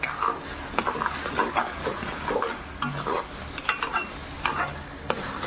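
Carrot halwa with chopped cashews and almonds stirred in a pan, a soft ongoing frying sizzle under repeated scraping and sharp metallic clinks of the spoon against the pan.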